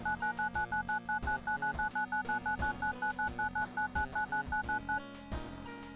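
Telephone number dialed in the World of Horror video game: a long run of evenly spaced electronic keypad tones beeping in quick steady rhythm, clear and alone, ending in a faint trailing tone.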